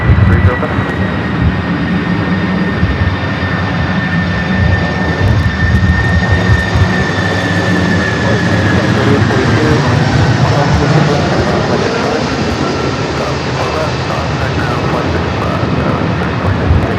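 A Boeing 747 on approach to land on runway 24 right at LAX, heard as a steady, loud jet engine roar with a high whine throughout, with radio chatter underneath.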